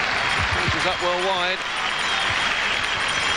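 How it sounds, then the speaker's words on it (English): A New Zealand football crowd at a 1985 World Cup qualifier between the All Whites and Australia, with broad applause and crowd roar sustained across the stands beneath a commentator's voice. "Good round of applause"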